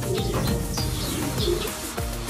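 Birds cooing and chirping close by, a steady mix of soft pigeon-like coos with brief tweets over a dense background.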